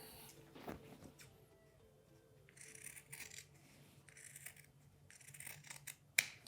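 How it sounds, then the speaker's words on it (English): Fabric scissors trim excess cloth from a sewn tote bag seam, a few quiet separate snips and rustles at close range, with a sharp click near the end. "Then you can trim off that excess fabric."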